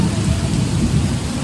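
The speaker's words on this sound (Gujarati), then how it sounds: "આમ જોવો ભાઈ વરસાદ વરસે" Heavy rain falls in Surat with low rumbling thunder, a loud, dense wash of noise that runs through the whole short stretch.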